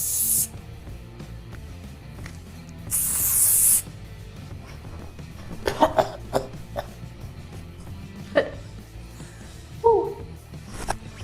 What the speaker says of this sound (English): I'm just gonna put some hairspray